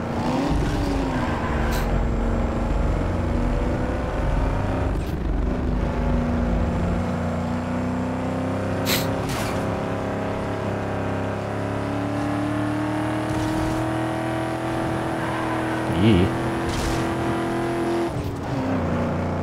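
Engine of a street car in Need for Speed: Underground 2, droning steadily and shifting pitch through gear changes, loud and close for the whole stretch with a few brief sharp bursts.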